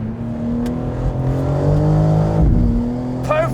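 A 2024 BMW M4 LCI Convertible pulls hard in all-wheel drive mode, its engine revving up loud and close with a rising growl. A quick gear change interrupts the climb before the rise resumes, all with no talking.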